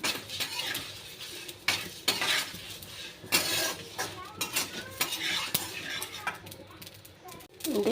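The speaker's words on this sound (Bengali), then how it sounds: "সব রকম মশলা দিয়ে আমি মশলাটা গরমে হালকা আঁচে ভেজে নেব।" Whole spices including bay leaves and dried red chillies dry-roasting in a pan over low heat, with a utensil scraping and clinking against the metal in irregular strokes and a soft sizzle beneath.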